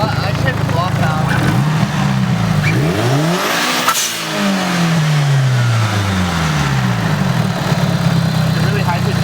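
A Mitsubishi Eclipse GST turbo engine revs up loudly from idle, climbing and dropping in a sweeping pitch while a high, thin turbo whistle rises over the engine, then settles back toward a steady idle.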